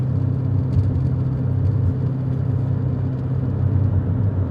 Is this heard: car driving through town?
yes